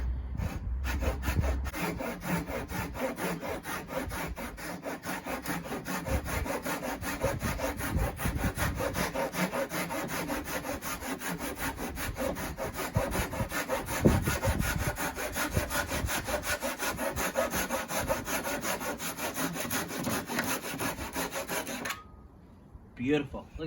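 A hand saw cuts through wood with quick, even back-and-forth rasping strokes, close and continuous for about twenty seconds before stopping near the end.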